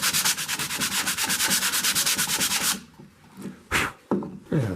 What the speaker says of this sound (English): Sand just a little bit of the dirt off the top of this.